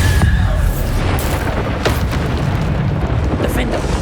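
Bombarda spell explosions in the Hogwarts Legacy video game, deep rumbling booms with sharp bursts landing one after another during combat, loud and close, with a voice talking over the blasts.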